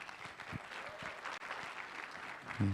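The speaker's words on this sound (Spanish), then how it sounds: "vamos a dar fuertes aplausos" Congregation applause at a Bible seminar, a dense, moderately loud clapping wash running through the stretch, with a few low thumps and a brief louder bump near the end.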